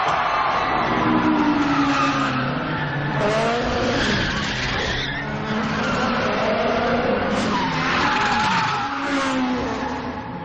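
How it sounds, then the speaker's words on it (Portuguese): Car drifting in a Fast and Furious film scene, with long sustained tire screeches and wailing, rising engine revs, loud and continuous throughout, with no talking. "o filme também foi responsável por apresentar ao mundo o drift, o esporte que hoje praticamente todo mundo conhece"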